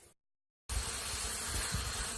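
Honey bees swarm around sugar syrup bucket feeders, a dense, continuous buzzing close by that begins abruptly after a moment of silence and stays loud and steady.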